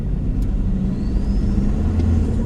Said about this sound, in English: let's do a little acceleration and see if you guys can hear it. You can hear the turbo